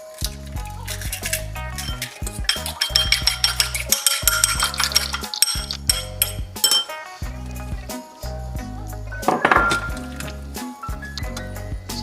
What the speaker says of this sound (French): un peu en omelette et on mélange à la pâte